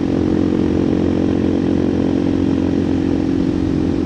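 A tuned 2024 KTM EXC-F 500 TPI dual sport motorcycle with an FMF muffler is being ridden, its engine droning loud and steady with a rough, buzzy exhaust note throughout.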